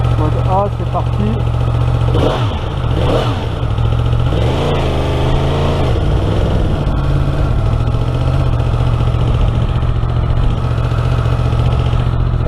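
A motorcycle engine idles with a steady low rumble, its pitch rising and falling in a few brief revs, while a person talks over it.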